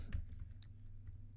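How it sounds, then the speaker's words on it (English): Keys tap on a computer keyboard in a quiet room, a few soft, uneven clicks over a low background hum. "So you'll hear me typing now."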